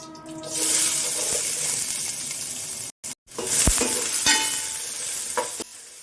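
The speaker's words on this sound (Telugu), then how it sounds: "ఆనియన్స్ వేసుకున్న తర్వాత కొంచెం ఫ్రై చేసుకోవాలి" Onions sizzle in hot oil with cloves and cinnamon stick in a pan, a bright steady frying hiss broken by a brief gap and a few clinks of stirring.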